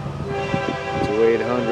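FEC101 freight train led by GE Evolution locomotives sounds its horn as it approaches, a sustained multi-tone blast rising and bending slightly over steady engine rumble, with a voice speaking over it.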